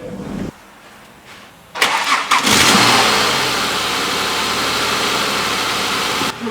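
Ford Mondeo ST220 project car cranking briefly then catching, its engine firing up and settling into a steady, close idle after a quiet pause.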